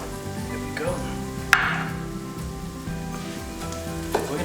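Bacon, onions and brown sugar frying in a pan, a continuous close sizzle with a spoon stirring and scraping now and then, a sharp clank midway, over a faint musical background.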